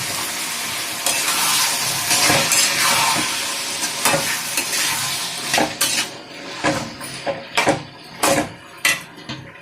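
Potato fry is stirred in a hot pan, with a continuous sizzle broken by repeated scraping and clinking strokes of the spoon against the pan, growing more separate and rhythmic toward the end.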